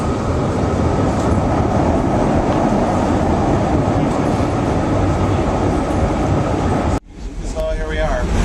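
Loud, steady underground rumble of a Chicago CTA Blue Line subway train rolling into the station, wheels clattering, ending abruptly as the train stops, with a voice speaking over it.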